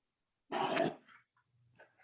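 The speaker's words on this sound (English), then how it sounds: "Is that a basset hound?" A small basset hound gives a short, close bark-like vocal burst, followed by faint snuffling and breathing sounds in an otherwise quiet room.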